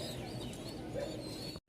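Pigeons at a Mirpur pigeon market, Baghdadi racers among them, cooing and chirping steadily and close by in a dense, continuous layer of bird calls that cuts off abruptly near the end.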